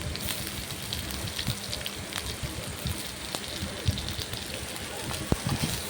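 Potatoes and cauliflower with bay leaf and five-spice seeds frying in hot oil in a kadai, a dense steady crackling sizzle with scattered pops, close and continuous.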